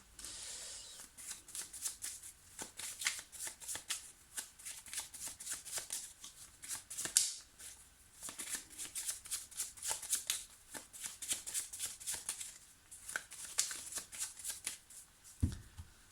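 Tarot cards shuffled by hand for a love reading, producing a long run of rapid, crisp riffling flutters that come and go in bursts, close and fairly quiet, with no talk over them.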